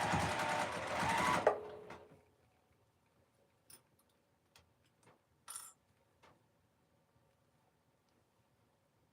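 A home sewing machine runs in a fast, dense whirring burst for about two seconds while stitching fabric for pajamas, then stops, leaving scattered faint clicks and taps in near silence.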